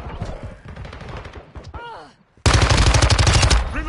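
Gunfire rattles in Modern Warfare 2 multiplayer: scattered shots and game sounds give way to a loud, sudden burst of rapid automatic fire that continues steadily to the end.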